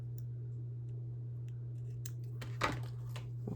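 A single scissor snip trims a small piece of chipboard off a handmade card, giving a brief close cut over a steady low electrical hum, with a faint click or two after it.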